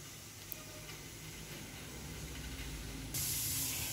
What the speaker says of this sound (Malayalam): നമ്മുടെ വെള്ളം തിളച്ച് തുടങ്ങി.